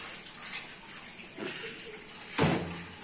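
Beef trotters are rinsed with hot water in a sink or basin. Splashing and sloshing run throughout, with two louder gushes near the middle and end.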